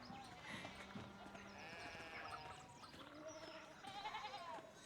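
Sheep bleating in the medieval adventure game Pentiment, several animals calling in short wavering cries over a busy mix of game ambience, fairly faint throughout.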